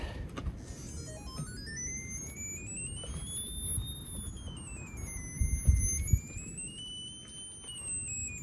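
Radiation detector tones while prospecting for radioactive minerals in southern New Mexico: a steady, gliding electronic pitch rises and falls over a low rumbling background, with a brief louder thump near the middle.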